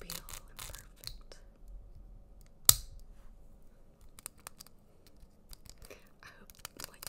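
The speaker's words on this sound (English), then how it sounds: "I hope like the clicking isn't too loud" Soft, sparse clicks tick at an uneven pace in a quiet room, with one sharp, louder snap near the start.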